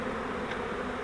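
Honeybee swarm buzzing inside a swarm trap, a continuous close droning hum without pauses, heard alone for about a second.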